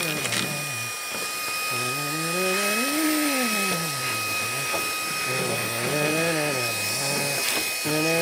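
Ryobi cordless handheld vacuum running steadily with a high whine, its pitch rising and falling as it sucks up debris and small rocks, close and continuous throughout.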